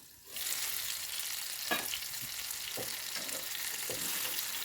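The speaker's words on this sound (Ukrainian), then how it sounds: "Накриваємо і смажимо." Steady, close sizzling of apple pancake batter frying in a little oil in a covered pan, with a few soft clinks and taps of a lid or utensil.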